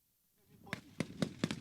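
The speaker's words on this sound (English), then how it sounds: "a reassuring sound of gunshots assured victory over security challenges in the country" Gunshots fired during an army operational visit in Lagos, a quick run of five sharp cracks at close range under faint background noise.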